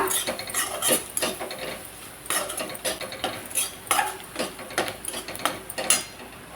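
A spoon stirring and scraping a spice mixture with turmeric and garam masala in a pan for potato paratha filling: irregular metallic scrapes and clinks in uneven bursts, fairly close, with no talking.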